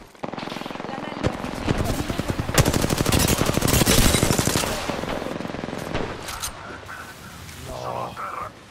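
Rapid automatic gunfire in Apex Legends, with dense bursts of close, loud shots running through the middle of the stretch and thinning toward the end, mixed with other game effects.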